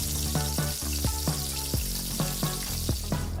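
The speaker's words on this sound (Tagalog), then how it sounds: "Sa isa pang pan, maglagay ng mantika at pakuluin at ilaglag ang potatoes." Potatoes frying in hot oil in a pan, a dense steady sizzle broken by repeated sharp crackles and pops, close and continuous with no talk.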